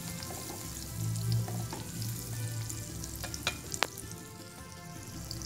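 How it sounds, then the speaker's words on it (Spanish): Butter melting in a frying pan for a no-bake apple tart gives a soft, steady sizzle with scattered pops and a few sharp spoon taps, close but fairly quiet. "vamos a derretir la mantequilla"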